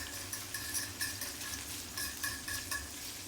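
Garlic sizzles in olive oil in a skillet while being stirred, a soft steady fry with rhythmic scraping strokes of a utensil recurring every half second or so, quiet and close.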